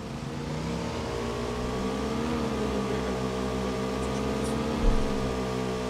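A motorbike engine in the video game PUBG, reversing, drones steadily at mid pitch with a continuous hum and a brief bump near the end, with no talk over it.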